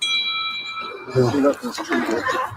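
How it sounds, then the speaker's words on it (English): A bell dings with sustained high ringing tones at the start, fading as loud voices of officers talking over a radio take over during a police standoff. "That bell. Ding, ding, ding."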